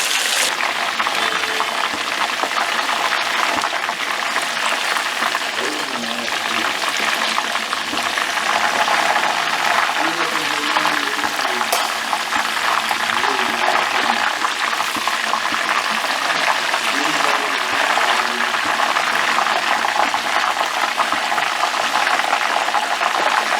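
Pieces of chicken, dyed blue for an Avatar-themed dish, fry in hot oil in a small pan, with a loud, continuous bubbling sizzle that runs steadily throughout.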